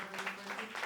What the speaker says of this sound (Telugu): ఒకసారి చప్పట్లు కొట్టి